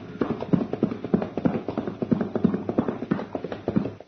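Horse hooves clip-clop in a steady, fairly close rhythm as a rider climbs on and the horse shifts about, the thuds repeating throughout with no talking.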